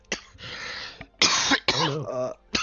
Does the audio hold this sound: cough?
yes